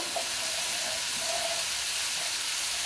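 Beans and carrots sautéing in a pan with onion and tomato, giving a steady, even hiss of frying that continues without a break, moderately loud and close, with no talk.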